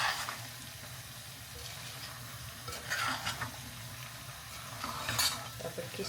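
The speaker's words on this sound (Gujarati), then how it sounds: "એને થોડોક ફાસ્ટ ગેસ કરી ખીચડીને સરસ રીતે મિક્સ કરી દઈએ." Sabudana khichdi is stirred in a pan over a high flame: a steady close sizzle with scraping and occasional spoon clinks against the metal throughout, no talking.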